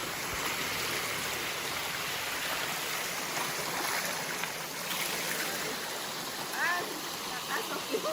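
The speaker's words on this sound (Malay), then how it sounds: "Ni air sungai." River water flows steadily with a constant, close rushing hiss on the island of Pulau Pangkor, and a brief faint chirp rises near the end.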